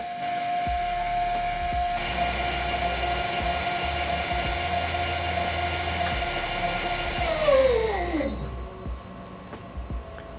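A Bilstein shock absorber runs on a test dyno in the factory, giving a loud steady mechanical hum with a whining tone and a low pulsing throb, then winding down near the end.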